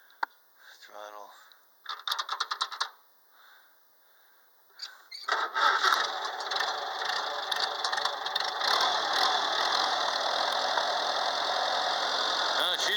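An IH Farmall A or Super A tractor engine, a 1953 model, cranks with a few short bursts, then catches at about six seconds and settles into a loud, steady, rough running roar.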